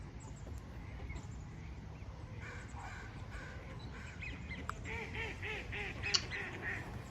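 Mallard ducks quack repeatedly in a steady series of calls over a dense outdoor background, at moderate distance and growing a bit louder toward the end.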